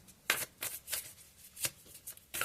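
Tarot cards are shuffled in several quick, crisp bursts of riffling close by, with short pauses between, no voices.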